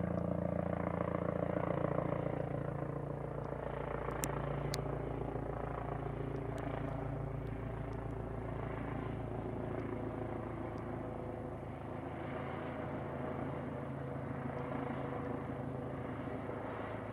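Eurocopter EC135 P2+ police helicopter from NPAS Exeter circles over the Bournemouth area, its rotor and turbine drone steady and faint in the distance throughout.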